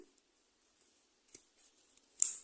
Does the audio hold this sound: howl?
no